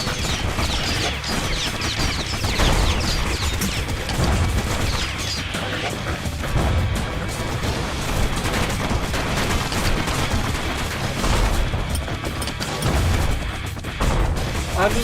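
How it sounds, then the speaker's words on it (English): Bombing explosions and crashes from the video game Bastion, loud and nearly continuous, with dense bursts layered over one another throughout and a voice speaking beneath them. "I just love bombing."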